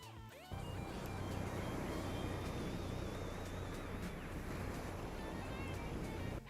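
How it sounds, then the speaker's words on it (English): Ocean waves placed in a Dolby Atmos mix for an audio drama, a dense, steady wash of surf that starts abruptly and holds loud and continuous throughout. "so the waves are more on the right"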